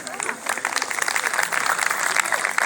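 An audience at a community annual function claps for children being honoured, steady crowd applause with a voice talking over it.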